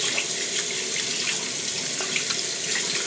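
A bathroom tap runs steadily into a sink while face cleanser foam is rinsed off, a constant close splashing hiss with small irregular splatters and no voices.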